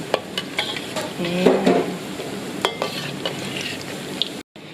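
Banana blossom and minced pork fritters deep frying in hot oil, a steady close sizzle broken by a few sharp clicks and clatters of a utensil, with a short silent gap near the end.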